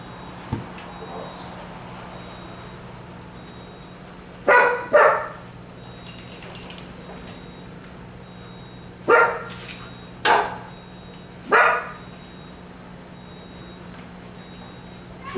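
A Doberman Pinscher, just let out of a cage, gives several sharp barks in short bursts spread across a quiet indoor stretch, with low room hum between them.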